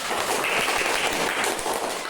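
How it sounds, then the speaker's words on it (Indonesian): Applause from a classroom of schoolchildren, a dense steady patter of many small hands clapping together throughout, fairly loud and close with no clear talk over it. "Tepuk tangan untuk kita."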